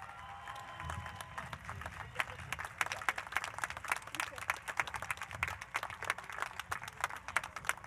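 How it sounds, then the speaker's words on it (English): Audience at a STEM academy commencement applauding graduates, a soft, steady patter of many hands, faint and somewhat distant, with occasional louder claps standing out. "How about another round of applause for the class of 2021?"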